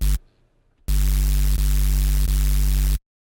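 Heavily distorted neuro bass synth with the distortion module's drive turned up high, a loud crunchy sustained tone that starts abruptly after a quiet gap, with a few rhythmic dips before cutting off.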